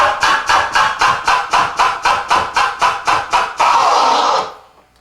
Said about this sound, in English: You're simultaneously moving the fader and the vinyl to create a cutting sound.